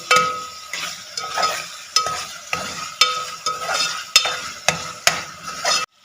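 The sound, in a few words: chicken being fried and stirred for moong dal chicken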